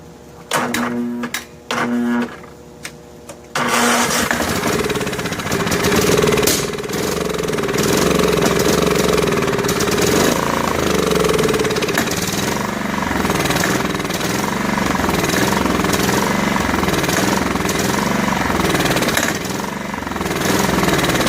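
Snapper rear-engine riding mower that sat for eight years, cranking in a few short bursts, then catching and running loud and steady with a rough, rattling clatter up close.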